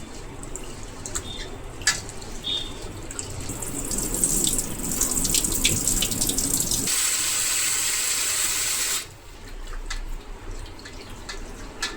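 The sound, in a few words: washing handvo ingredients in running water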